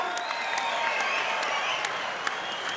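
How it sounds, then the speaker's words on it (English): A boxing crowd applauds two super middleweight fighters after their bout, a loud, continuous roar of clapping and crowd noise with occasional sharper claps and cheers over an arena hum. "can we please have a round of applause for these two super middleweight warriors?"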